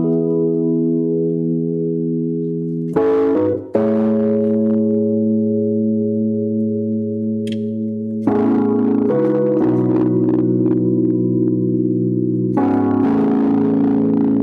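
Sustained chords on a Nord Stage 3 keyboard shimmer with a wavering, swirling chorus effect, changing every few seconds in a steady progression, played alone.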